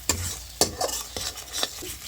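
Bengali spice paste of ground coriander, cumin and black pepper frying with a splash of water in a pan, a soft steady sizzle broken by four sharp scrape-and-stir strokes, close and with no talk.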